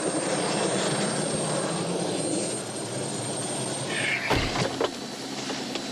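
Helicopter flying, its engine a steady droning roar throughout with a sharp transient and short whine near the end.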